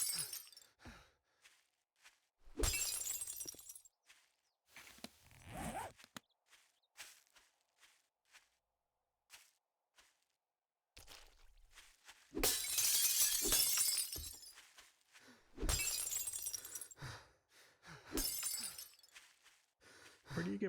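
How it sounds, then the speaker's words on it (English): Windows breaking in the survival game 7 Days to Die, with several loud bursts of shattering glass at intervals, mixed with footsteps and impact noises, no talking. "I've been breaking windows here and I'm not getting any broken glass."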